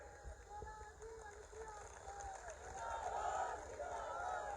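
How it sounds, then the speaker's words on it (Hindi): A crowd at an election public meeting in Bachhrawan, Raebareli breaks into applause and cheering, a faint, spread-out wash of clapping and shouts that grows slightly louder toward the end. "श्री अकेला जी की कितनी लोकप्रियता है तो उनका नाम सुनते ही तालियां बजने लगती है।"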